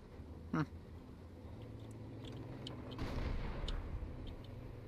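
Tank cannon fire in the War Thunder game, with a T-55AM and BMP-1 nearby: a sharp crack early on, then a heavier, rumbling boom about three seconds in, over a steady engine drone.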